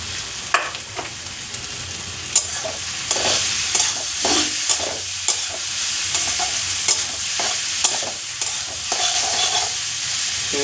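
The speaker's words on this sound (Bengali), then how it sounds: "মাছ দিয়ে একটু ভালো করে ভেজে নেবো" Shrimp fry in spiced oil in a pan, with a loud, steady sizzle and repeated scraping stir strokes at an even pace throughout.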